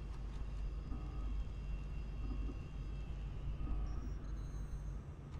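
Spacecraft takeoff in a puzzle video game, a continuous low rumble with a faint engine drone and occasional higher tones, steady and moderately quiet throughout.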